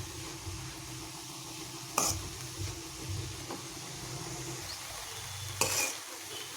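Beetroot roasts in ghee for laddu and is stirred in a pan. A faint, low sizzle runs throughout, broken by a couple of sharper spoon scrapes against the pan.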